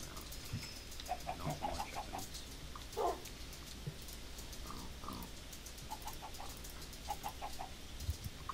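Soft, scattered Minecraft chicken clucks and short chirpy calls pop up intermittently over a steady low hum, small and game-like rather than a real farmyard.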